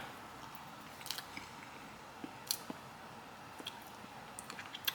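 Faint, close crunching bites and soft chewing of sweet potato souffle topped with marshmallow, a few sparse crisp clicks and squishes over quiet background with no talking.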